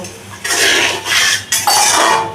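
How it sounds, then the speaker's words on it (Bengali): Eggplant masala stir-fried in a pan: three loud bursts of scraping and clattering as a utensil works the masala against the metal, close up and without speech. "এবারে আমি এইগুলোকে ভালো করে কষিয়ে নেব"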